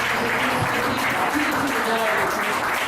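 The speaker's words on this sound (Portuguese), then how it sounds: "E nós te agradecemos, Pai, com uma salva de palmas maravilhosas a Ti, Jesus" A church congregation gives a round of applause for Jesus, dense continuous clapping from many hands mixed with voices throughout.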